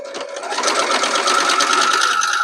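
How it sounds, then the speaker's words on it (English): A sewing machine chain-piecing quilt fabric runs loud and close in a continuous fast stitching whir that builds up to a steady hum. "we are just going to chain piece these through the machine"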